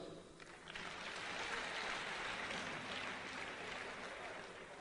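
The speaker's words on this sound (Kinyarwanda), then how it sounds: "Mwamere Ruganza amashyi" An audience at a public gathering in Rwanda claps together in a sustained, even wash of applause that stays faint and distant throughout.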